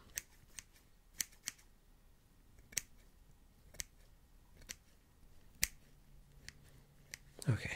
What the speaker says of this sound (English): And this scissor here, I'm just gonna cut a little bit of hair here